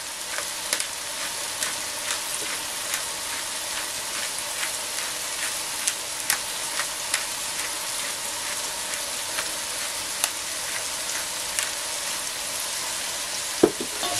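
Greens wilting in a hot pan sizzle steadily as they are stirred, a constant bright frying hiss broken by small scraping clicks of the utensil, with a sharper knock near the end; no one speaks.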